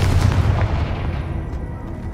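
A Confringo fire spell erupts in Hogwarts Legacy, a loud blast with a deep low boom that fades off over a couple of seconds, with no voices.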